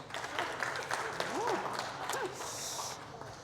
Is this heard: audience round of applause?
yes